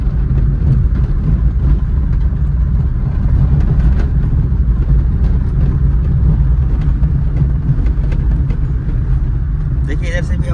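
Rattling from loose door visor tape on a car being driven on a rough road: light ticking rattles over steady, loud road and engine noise heard from inside the cabin.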